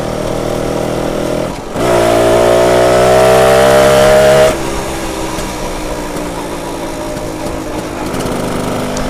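An old BSA Bantam 175 two-stroke motorcycle ridden on a test run, its engine buzzing loudly close by, rising in pitch under throttle for a few seconds, then easing back to a steadier drone.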